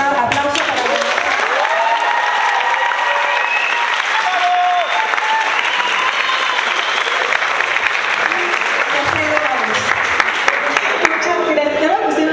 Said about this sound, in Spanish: Les pido un fuerte aplauso para la...